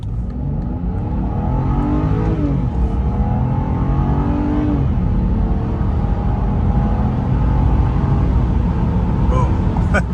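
A 2011 BMW 328xi accelerates hard up a freeway on-ramp, its engine rising in pitch through the gears with loud, continuous revving and road roar from inside the car.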